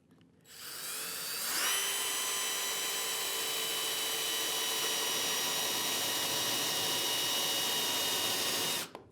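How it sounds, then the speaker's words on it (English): A paddle bit in a power drill bores into the plywood of a workbench, the motor spinning up after a brief start and then holding a steady whine for about seven seconds before stopping. "Get my paddle bit right in the middle of that"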